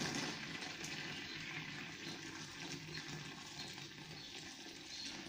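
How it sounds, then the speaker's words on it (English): Hot water poured around the lenses of a light unit in a garage, a faint steady wash of trickling liquid noise with no clear pours or splashes standing out, no talking. "Let me just pour some water around them."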